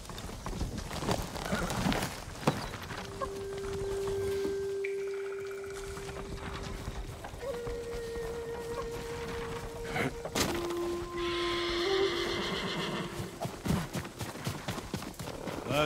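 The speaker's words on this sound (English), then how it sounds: "Follow those horses." Horses gallop in the Ghost of Tsushima video game, with steady clip-clop hoofbeats over a low music drone and a brief neigh near the end.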